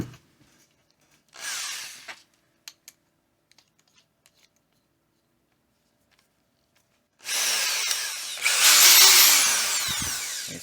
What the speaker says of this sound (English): Here's our 5/16 drill. Let's drill it.